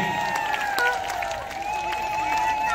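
A crowd claps steadily at a devotional bhajan gathering, a continuous wash of hand-clapping with a sustained sung or droning tone running over it.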